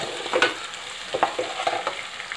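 Chopped garlic frying in a pan for a sour greens pickle sizzles steadily while being stirred, with scraping bursts of the spoon against the pan up close.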